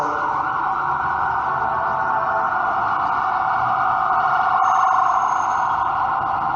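Passing ambulance siren, a loud, steady electronic wail held throughout at close range with a faint background hum.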